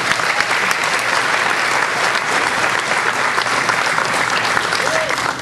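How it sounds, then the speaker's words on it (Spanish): An audience at an evening gathering applauds loudly and continuously, a dense wash of clapping from many hands that holds steady throughout the moment. "Yo quiero que darle fuertes palmas a Máximo Barraza."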